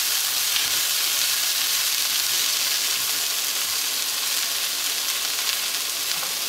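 Vegetables for a spicy-sweet stir-fry are tossed with a spatula in a hot frying pan, giving a steady, close, even sizzle and hiss with faint stirring scrapes throughout and no talking.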